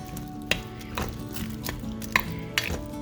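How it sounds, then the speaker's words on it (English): Little smokies stirred in a pot: a spoon gives a few light clinks and soft scrapes against the pot, spaced irregularly over a quiet kitchen background. "Then I'll just stir this up really good."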